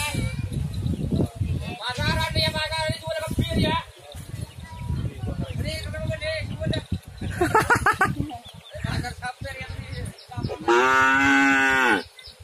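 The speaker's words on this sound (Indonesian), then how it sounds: "Cek sapi. Nah, ini sapinya." Cattle at a tent for bull racing contestants in a Karapan Sapi event, several loud drawn-out moos close by, the last one long and strong, with people talking in between.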